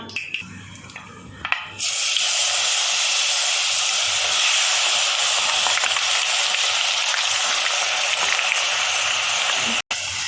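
Crushed garlic dropped with curry leaves and fenugreek into hot oil in a clay pot for gooseberry pickle, bursting into a loud, steady sizzle and hiss that holds for several seconds after a quieter start.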